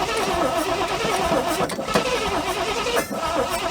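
Engine of a 1972 Chevrolet C30 truck, abandoned on a farm for years, cranking and catching into a loud rough running roar, close up, with no talking.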